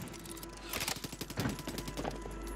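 Rapid gunfire rings out in the Warzone video game as a fast burst of sharp, evenly spaced shots over about two seconds, fairly loud, with no speech.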